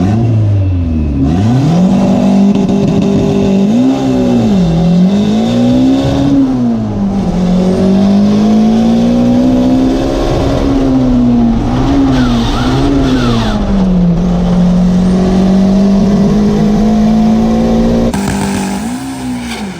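A Nissan GT-R race car revs and accelerates loudly and up close, its engine note climbing and falling repeatedly through gear changes, with tire squeal mixed in.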